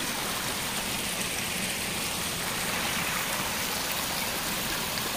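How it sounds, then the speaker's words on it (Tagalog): Continuous rushing water at Pinsal Falls in Santa Maria, Ilocos Sur, a dense steady roar of a large waterfall filling the scene without any talking. "Ayan o, may tubig."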